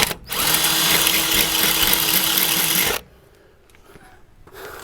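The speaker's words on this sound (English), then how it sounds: "Drilling holes in my van" A power drill boring holes into a camper van during a conversion, whirring loud and steady for about three seconds up close, then stopping, leaving faint background noises.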